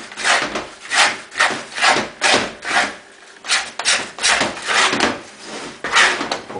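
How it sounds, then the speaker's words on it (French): Bread dough is gathered on a floured surface with a scraper board, a series of rhythmic rubbing scrapes roughly every half second, close and fairly loud, with a brief pause midway. "je vais finir de rassembler ce pâton avec une planche à débarrasser"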